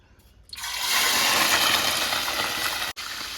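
Loud, steady rush of water splashed by hand, lasting a few seconds, starting abruptly and cutting out briefly near the end.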